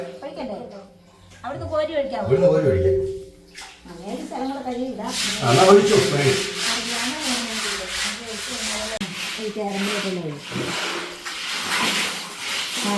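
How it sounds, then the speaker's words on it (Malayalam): Rough, steady scrubbing of a well's inner wall with coconut husk, rasping continuously for several seconds while people talk nearby. "ആ താഴത്തെ റിങ് വരെ ഒരച്ചൊരച്ച് ഇങ്ങനെ ക്ലീൻ ചെയ്യണം"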